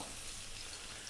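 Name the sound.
onion dropped into hot olive oil, sizzling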